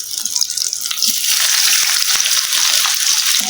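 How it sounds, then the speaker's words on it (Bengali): Onions frying in a pan, browning over low heat, a steady close sizzle with soft crackles and a few stirring clicks throughout. "পেঁয়াজটাকেও ভেজে নিচ্ছি বাদামি কালার করে।"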